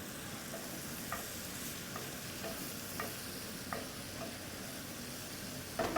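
Fajita filling with lemon squeezed in gets stirred in a hot pan: a quiet, even sizzle under periodic scraping clicks of a utensil against the pan, close and without voices.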